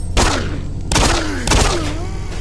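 Pistol gunfire in Doom 3: three loud, sharp shots at roughly even intervals, each followed by a short ringing, descending tail.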